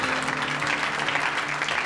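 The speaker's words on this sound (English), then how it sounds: "Give me a huge round of applause." A live audience at a comedy-magic show at the Chicago Magic Lounge claps steadily for about two seconds, a dense wash of applause with no voices on top.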